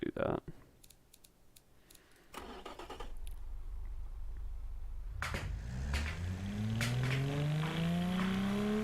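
A sporty 1990s-style car engine in the Automation video game starts after some mouse clicks, then revs steadily upward in pitch, moderately loud and close.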